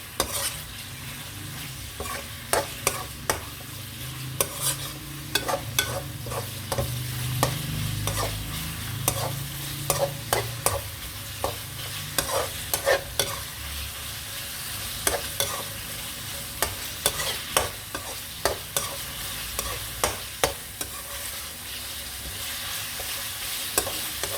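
Small boneless chicken pieces stir-fried in a pan with bhindi, a continuous soft sizzle broken by frequent sharp scrapes and clinks of the spatula, close and fairly quiet with no talking.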